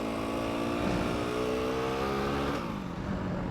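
An off-road dirt bike engine drones steadily in second gear, close and continuous, its pitch shifting slightly as the bike rides along a trail.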